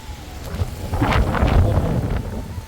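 Strong storm wind gusts across the edge of a wetland, buffeting the microphone with deep, rumbling surges that swell and fade over a few seconds.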